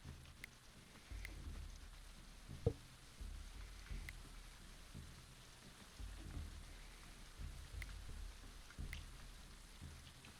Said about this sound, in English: Alright, it's raining.